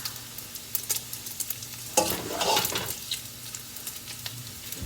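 Ground beef browning in a pan for keto Zuppa Toscana, a steady close crackling sizzle with light stirring scrapes and a louder burst of frying partway through.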